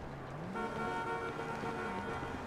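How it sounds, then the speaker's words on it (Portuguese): A sustained horn on a lowered motorized bicycle blares steadily over a rumbling road-noise background, holding for a couple of seconds at fairly close range. "Só escuta a buzina, ó."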